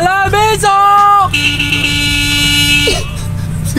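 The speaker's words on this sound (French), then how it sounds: "C'est quoi ce klaxon de merde? C'est un klaxon qui est mort." A broken car horn blares during a late-night drive home, first in short wavering honks, then one long flat buzzing blast that cuts off near the end, with a voice speaking over parts of it.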